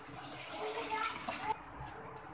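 Hot water drains off boiled rice for kofta biryani, a short splashing gush for about a second and a half that then drops to a faint trickle.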